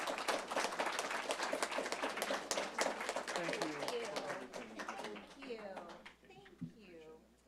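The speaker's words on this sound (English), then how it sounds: "we'll applaud her as she walks up" Applause from those gathered at a school board of education meeting starts as brisk, moderately close clapping and tapers off over several seconds. Talking takes over as the clapping fades.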